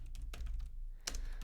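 Close computer keyboard typing: scattered key taps, a brief pause, then a firmer cluster of clicks, as Lua code is written for a Love2D game, with no voices.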